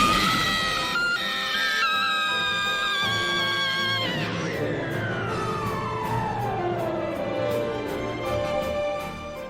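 Anguished, drawn-out screaming from the Evangelion anime, loud and sustained, with a high wailing tone that slides steadily downward over several seconds, layered on a dense orchestral or electronic backdrop.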